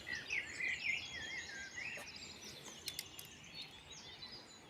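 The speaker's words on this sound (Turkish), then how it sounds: "Kuşların sesi harika." Faint birdsong with high twittering phrases and scattered chirps over a soft outdoor hiss, no voices.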